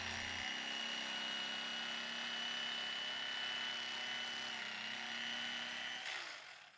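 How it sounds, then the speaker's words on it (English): An electric knife cuts through upholstery foam with a steady, loud, buzzing whine that holds evenly for several seconds before dropping away at the end. "He used an electric knife, which works great."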